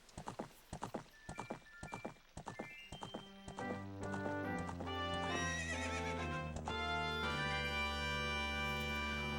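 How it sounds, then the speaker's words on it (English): Horse in The Legend of Zelda: Ocarina of Time: a run of quick rhythmic hoofbeats, then a bright synthesized whinny and game music swelling into sustained tones. "So now we have a horse."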